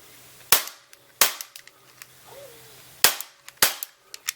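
Umarex Makarov Ultra Legends CO2 blowback BB pistol dry firing with no BBs loaded, giving four sharp, close snaps of the slide cycling in two pairs, with small mechanical clicks and handling noise between.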